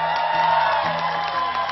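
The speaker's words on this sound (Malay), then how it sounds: "Tepukan untuk mereka." A crowd cheers and whoops steadily at a Malaysian televised singing competition concert, a continuous dense roar with music sustaining underneath for almost two seconds.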